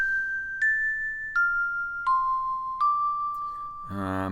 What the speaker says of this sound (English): And we need to follow the bells.